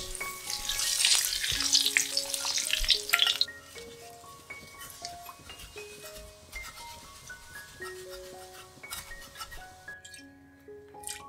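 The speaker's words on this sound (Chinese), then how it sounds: "现在倒入适量的油，待油热后放入面线，炸至金黄色，捞起来放凉。" Vermicelli noodles deep-frying in hot oil, a fizzing crackle loud at first then easing into sparse pops and clinks of utensils, close by and with no talk.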